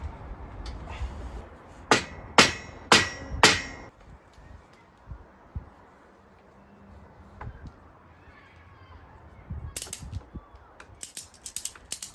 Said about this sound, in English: Bit of a tippity tap with the hammer.